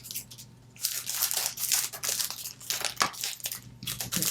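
Scissors snip through decorative paper up close, a series of crisp cuts mixed with rustling and crinkling of the sheet, with no talking.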